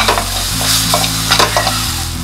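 Onion, tomato and ginger-garlic paste sauté loudly in a pan with a continuous crackling sizzle and several stirring scrapes, over a steady low hum.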